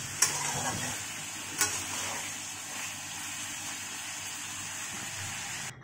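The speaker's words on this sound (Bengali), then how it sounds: "আলুটা কষাচ্ছে" Potatoes sauté in a pan in a home kitchen, a steady soft sizzle with light stirring and a couple of sharp utensil clicks against the pan.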